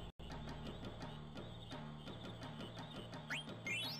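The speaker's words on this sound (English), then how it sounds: "It's a baby frog, so we'll take the baby frogs for sure." Repeated game frog croaks in Final Fantasy IX, a steady pulsing rhythm of low croaks over a busy musical background, with a couple of rising chirpy effects near the end.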